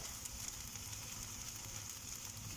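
Potato börek sizzles steadily in oil in a pan on the stove, a continuous close crackle and hiss with no pauses and no voices.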